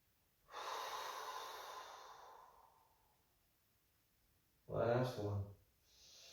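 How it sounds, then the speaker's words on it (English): Slow breathing during a yoga pose: a long, soft exhale, then a pause and a shorter, sharper breath a few seconds later, close and quiet. "Take a few rounds of breath here."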